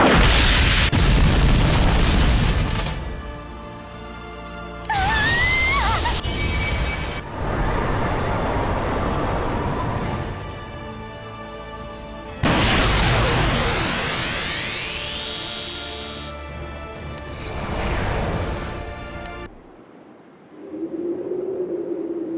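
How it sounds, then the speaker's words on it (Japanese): An explosion blast in a Granblue Fantasy cutscene: a loud, booming burst opens the scene, followed by several more swelling roars and rushing effects that cut off into near silence, then a faint tone at the end. "爆風で吹っ飛んじゃった子結構いる"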